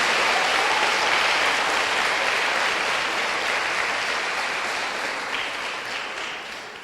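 A church congregation applauds in a dense, sustained wash of clapping that stays loud for several seconds and then gradually thins and fades toward the end.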